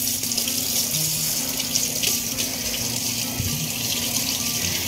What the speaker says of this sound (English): Now you rinse it in warm water.